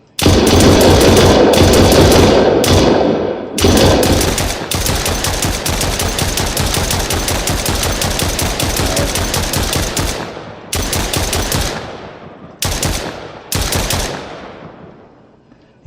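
Rapid automatic gunfire in a zombie shooter video game, long loud bursts of fast repeating shots separated by brief pauses, each burst ending in short echoing tails.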